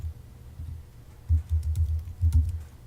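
HTML table code being typed on a computer keyboard, a faint, soft run of key taps in irregular bursts with no speech.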